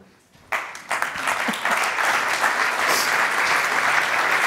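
A business breakout-session audience bursts into loud, sustained applause after a brief quiet moment, many hands clapping densely and evenly to the end.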